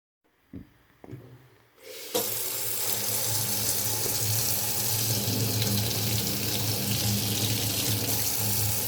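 A Delta Eldridge kitchen faucet, model 19842Z-SD-DST, gives a couple of soft knocks, then water gushes on and runs in a steady, full hiss into the sink until the end.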